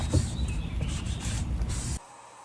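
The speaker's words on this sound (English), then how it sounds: "I dusted everything off with a tack cloth and then sprayed a second coat of primer" Spray primer hisses continuously onto a large wooden bedside table during furniture repair, a close steady spray that stops abruptly near the end.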